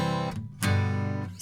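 Guitar strumming a short chord progression with the F fingered as a power chord, two or three sustained chords separated by a brief gap, close and clear with no talking.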